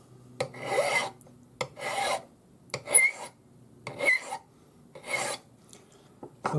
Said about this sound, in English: So file until you have a nice shiny spot all the way around.